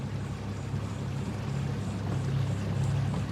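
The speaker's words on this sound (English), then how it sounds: "nice Crevel, 350 horsepower Mercury outboard" A steady low drone of a 350-horsepower Mercury outboard motor running continuously on a boat in a bay, with water noise mixed in and no voices.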